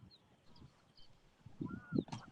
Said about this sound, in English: Oh, and I hear those geese honking.